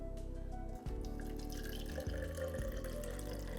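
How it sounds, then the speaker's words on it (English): Two hundred millilitres of water are poured steadily onto superabsorbent polymer granules, a continuous close gurgling stream with a brief break and small splashy shifts in flow, no voices over it. "And I'm going to add 200 ml of water"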